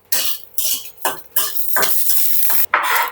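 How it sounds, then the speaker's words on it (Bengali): Dried chillies hitting hot oil in a pan, giving bursts of crackling sizzle broken by short pauses and stirring scrapes, close and fairly loud, with no voices. "আমি কয়েকটি শুকনো মরিচ পুড়িয়ে নিব"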